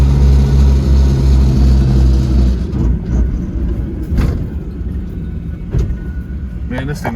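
A 1965 Ford Mustang with a 200 inline-six and a T5 five-speed drives along. Its steady low engine rumble is loud and close at first, then eases to a lighter drone with a few clunks. Someone talks over it.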